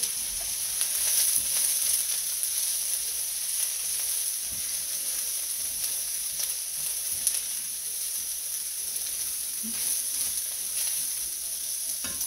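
Onion and rice fry in a skillet with a steady, even sizzle that holds at a moderate level throughout, broken by occasional soft clicks of stirring and no talk.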